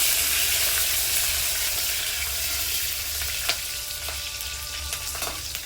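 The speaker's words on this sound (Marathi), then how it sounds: "नंतर आपण टाकणार आहे कढीपत्ता आणि हिरवी मिरची, तिला भाजून घेऊ।" Curry leaves and green chilies crackle and sizzle in hot oil with garlic and cumin, a loud continuous frying hiss with a few sharp pops and faint utensil clinks.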